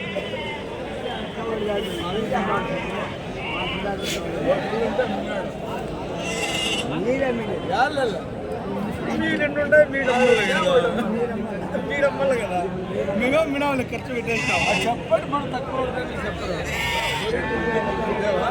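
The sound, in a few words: Kadiri ram market with sheep bleating and crowd chatter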